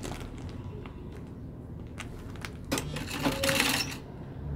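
A sewing machine's presser foot knocking while stitching a patchwork rag rug, a close run of rapid mechanical tapping and clatter that swells louder toward the end.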